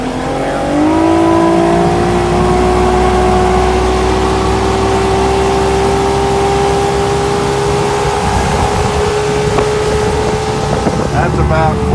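Boston Whaler Revenge 20 ft boat powered by a 150 Johnson Ocean Pro outboard, running steadily at speed with a sustained engine drone that climbs in pitch early on, plus wind and water rush throughout.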